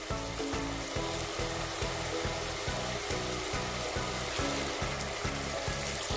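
Cloves, cinnamon and salt sizzle steadily in hot oil in a pan as a gravy base is stirred, a dense continuous frying hiss with a rhythmic pulsing undertone, loud and close, with no talk.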